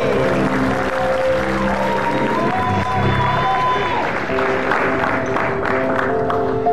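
Audience applause rolls through a crowded comedy stage show, steady clapping with some cheering, sustained throughout under a busy mix of crowd noise.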